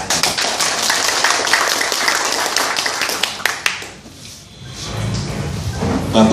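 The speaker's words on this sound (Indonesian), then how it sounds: "Boleh tepuk tangan." Audience at a neighbourhood RW head election meeting claps and applauds, a dense, loud burst of many hands lasting several seconds before thinning out, with murmuring voices as it fades.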